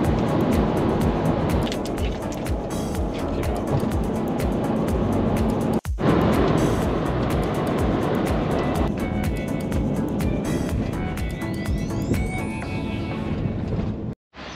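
A van travelling along a road through France toward the Rhône Alps, a continuous broadband road and wind roar from inside, steady for most of the stretch with a brief dropout near the end.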